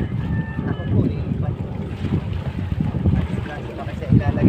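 Gusty wind buffets the microphone in low, rumbling bursts, continuous and fairly loud, with a faint voice in the background.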